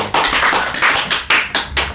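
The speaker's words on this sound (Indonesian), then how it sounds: "Tepuk tangan." A small group claps hands at a lively event in Banjar, a short burst of several loud, sharp, uneven claps lasting about two seconds with no talk over it.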